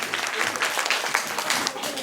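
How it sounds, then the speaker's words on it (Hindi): An indoor audience in a classroom-style event claps for a student, a dense patter of many hands at close range that holds steady for a couple of seconds. "पहले तो इनके लिए ना ताली बजा दो"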